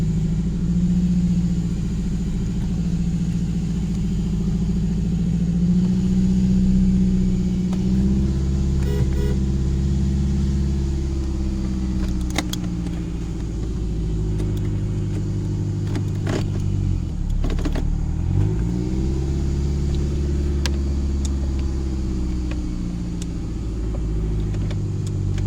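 A 2005 Toyota Camry LE engine runs steadily at idle, a close, continuous low rumble with a faint brief dip partway through and no talking.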